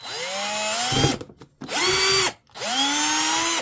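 A power drill bores a hole in plastic for a fishing lamp mount. Three loud, close whining bursts rise in pitch and hold, separated by brief pauses.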